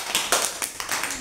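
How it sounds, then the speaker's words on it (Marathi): A group of children clapping in a classroom, a short burst of several uneven, close handclaps in a loose rhythm, with a little voice faintly underneath. "छान, टाळ्या वाजवा सगळ्यांनी"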